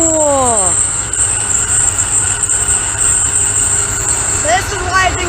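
A freight train carrying track-laying cars rolls past close by, loud and continuous, with rumbling cars and high wheel squeals at the start and near the end, and insects chirping steadily underneath.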